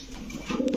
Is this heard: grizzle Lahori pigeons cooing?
yes